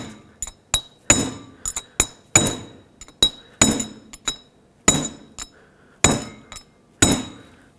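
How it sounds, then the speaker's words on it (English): A hammer taps a metal punch to seat a rear inner wheel bearing race on a 2008-2010 Ford F-250, sharp ringing metallic strikes, about a dozen close up, in irregular bursts with brief gaps between. "as I'm tapping my punch, the hammer bounces off like there's a spring in the way"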